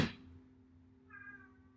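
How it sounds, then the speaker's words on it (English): A single cat meows once, moderately close and fairly soft, a short tonal call rising above a quiet indoor hum, with no talking around it. "That damn cat."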